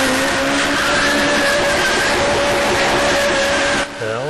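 A Wrightspeed X1 electric car races a Porsche Carrera GT on the quarter-mile track at Infineon Raceway, producing a loud, continuous high-speed rush with a rising whine and tire noise, dropping off abruptly near the end.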